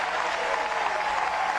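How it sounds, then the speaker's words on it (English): Home crowd at a 2018 NCAA baseball tournament regional final between Vanderbilt and Clemson, a dense, continuous wash of cheering and clapping filling the whole short moment. "here come the Tigers, the home crowd loving it. They're coming to their feet."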